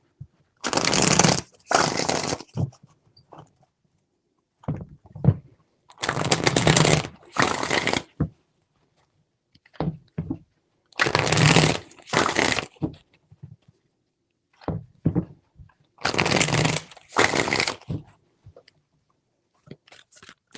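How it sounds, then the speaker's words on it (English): A deck of tarot cards shuffled by hand in four rhythmic rounds of loud, close riffling bursts, with light taps and clicks of cards between each round and no voices. "3 shuffles."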